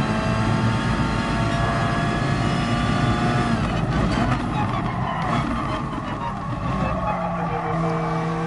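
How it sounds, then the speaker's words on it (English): Race car engine revving hard in the GT Sport racing game, a loud, continuous high-pitched engine whine held throughout with shifting tones and no talk over it. "Revving it out definitely helps for a few hundredths of a second."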